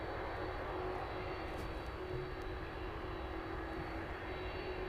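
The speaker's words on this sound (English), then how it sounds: "around we catch the departure of that Ryanair service. That one quickly making its way towards us." A Ryanair jet airliner departing East Midlands Airport: a steady, broad engine roar heard from a distance, with constant loudness throughout and no speech.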